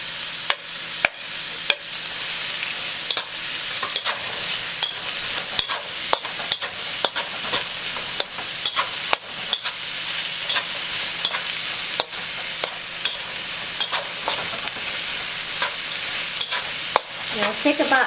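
Carrots are stir-fried for char kway teow, crackling with a steady sizzle under repeated, close scrapes and clacks of a utensil against the pan, with no voices.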